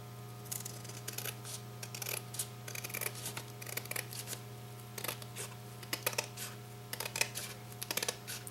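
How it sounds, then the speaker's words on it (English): Scissors snip through paper while trimming a piece for a Christmas shadow box craft, with rapid irregular crisp cuts close up over a steady low hum. "I'm just going to use my scissors and trim that down"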